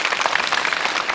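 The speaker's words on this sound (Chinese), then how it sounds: "那我们中国的朋友把掌声送给你，欢迎你。" Steady crowd applause from a live audience at a Chinese song gala on television, dense and even throughout, with no voices over it.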